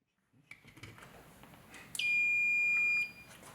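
A multimeter gives a single continuity beep while testing the fuse of a Marshall tube amp, a clear steady tone about a second long after some faint handling clicks.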